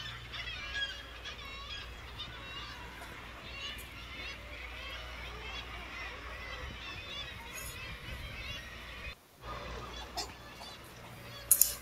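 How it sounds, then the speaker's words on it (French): Black-legged kittiwake colony calling at Cap Fréhel sea cliffs, a dense continuous chorus of faint, distant cries over steady wind and surf noise, with a voice speaking over it. "vous avez peut-être aussi entendu et reconnu le son le cri des mouettes tridactyles"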